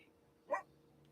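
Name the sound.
dogs barking in the background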